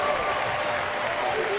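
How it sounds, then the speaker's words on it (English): A hockey crowd cheers and applauds after a Union goal at a college hockey game, giving a steady, dense roar of many voices and clapping with a commentator talking over it. "a big portion of the Union crowd here tonight on their feet cheering as they finally find their first lead of the night"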